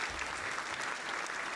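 A crowd applauds continuously, dense even clapping at moderate volume with no voices over it.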